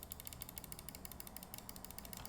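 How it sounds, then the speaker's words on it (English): Rapid, evenly spaced clicks from a computer mouse recorded at keyboard level, a crisp quiet ticking running continuously without any voices. "This is how loud the mouse clicks are at keyboard level."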